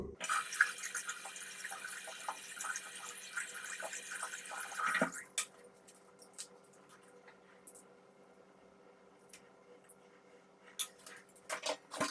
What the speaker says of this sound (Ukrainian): Ну що, я замочую помазок, вставляю лезо і приступимо.